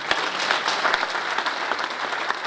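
Applause from an audience at a presentation of new circles, a continuous, moderately loud crowd clapping with scattered sharper hand claps standing out.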